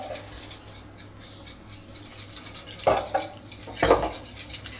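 Sesame shrimp fritter batter being beaten vigorously in a bowl: quiet scraping swirls over a low hum, then two louder clattering knocks of the utensil against the bowl near the end.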